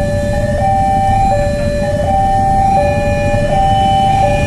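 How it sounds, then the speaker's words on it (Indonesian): A train's alarm horn sounds continuously as a steady two-tone wail with regular pitch shifts, loud and close, over a dense rumbling background of heavy traffic. No talking. "Dan alarmnya itu kedengaran sampai sono depan belakang Benny City."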